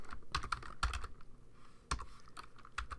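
Short clusters of keystrokes on a computer keyboard, close and crisp, arrive in uneven bursts with brief pauses between them while someone types a greeting, with no talking.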